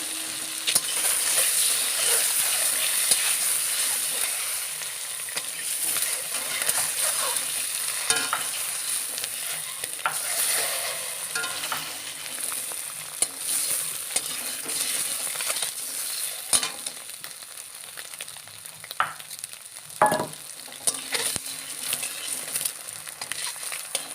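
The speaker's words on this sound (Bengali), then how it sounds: "দেখুন তেলটা আমার গরম হয়ে গেছে। এবার আমি 3টে ডিমগুলোকে ভেজে নেব" Three eggs fry in hot mustard oil in a pan, giving a steady crackling sizzle throughout with occasional sharp clinks and scraping stirs, close and moderately loud with no voices.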